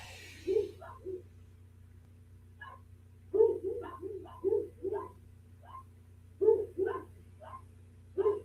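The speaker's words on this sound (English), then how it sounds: "because Zena started barking" A dog barks indoors in short bursts of two or three, spaced apart and moderately distant, over a steady low hum with no talking.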